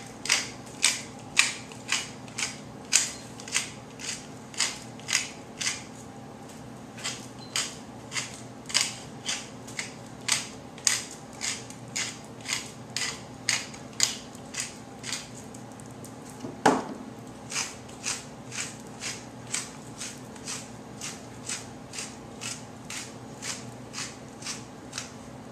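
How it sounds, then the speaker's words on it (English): A small hand-held pepper grinder cranks in a steady series of short, crisp clicking bursts, close and fairly quiet, with one brief louder knock partway through and no talking. "Love my little pepper grinder."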